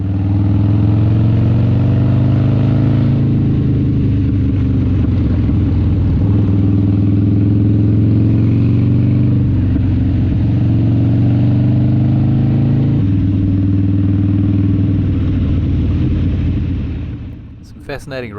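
Harley-Davidson motorcycles ride on a country road on a group ride in South Auckland. A loud, continuous engine drone with wind noise rises and falls through gear changes, then eases near the end.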